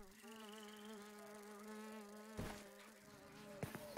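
Fly buzzing in the Grounded video game: a steady, close droning buzz with a wavering pitch holds throughout, broken near the end by a few sharp clicks and thumps.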